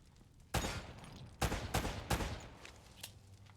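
Gunfire in the video game Uncharted: Drake's Fortune: three loud sharp shots with trailing echoes spaced about a second apart, followed by a couple of fainter distant pops over a quiet background.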